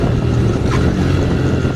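Steady close engine drone of a TVS Raider 125 motorcycle being ridden, with wind rush over the microphone and no clear revving peaks.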